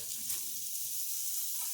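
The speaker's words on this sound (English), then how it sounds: "Gonna go ahead and get our sausage frying up here" Steady hissing sizzle of sausage frying in a hot pan, continuous and close, with no talking.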